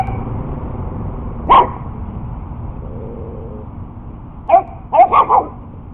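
A Chihuahua and a pit bull puppy bark: one sharp yap early, then a quick burst of three or four barks near the end, fairly close against a quiet background.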